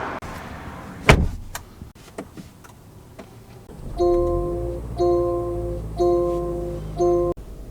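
Rear hatch of a 2025 Range Rover Velar opening under power: a sharp latch click, then four evenly spaced bursts of a steady electric motor whine, each lasting under a second, close by with no talking.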